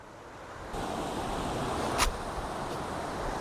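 The Gosthani river rushes into a cave as a steady, broad roar of flowing water, with one brief louder splash partway through.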